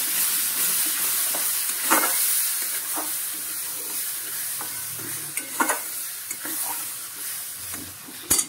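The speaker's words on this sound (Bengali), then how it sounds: "আমটা দিচ্ছি, একটু করে দেবো, একটু করে নেড়ে নেব।" Mango being stirred into semolina halwa in a hot pan, a soft continuous sizzle broken by repeated scraping strokes of a spoon across the pan bottom.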